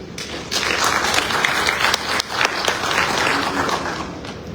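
Audience applause fills a conference hall at an African Road Maintenance Fund Association gathering, a dense, steady clapping that starts abruptly and carries on loud and close throughout with no talk over it.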